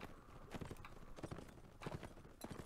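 Horse hooves clip-clop in quick, uneven bursts of hoofbeats in the 108 Heroes mod for a war game, fairly faint and steady against a quiet background.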